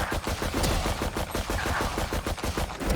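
Rapid bursts of gunfire in the video game Valorant, a steady run of close, evenly spaced shots lasting throughout with no talk over them.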